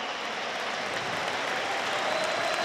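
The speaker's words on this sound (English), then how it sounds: "Getting a round of applause from the Sunderland fans" Sunderland supporters applaud a substituted player during a home match against Bristol City, a dense, steady wash of distant stadium clapping held at an even level throughout.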